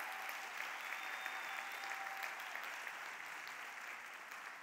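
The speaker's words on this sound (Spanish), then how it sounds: "Si usted va a aplaudir al Señor, apláudalo" A church congregation applauds the Lord in sustained, even clapping that fills the room throughout, fairly distant and steady, with a faint tone running underneath.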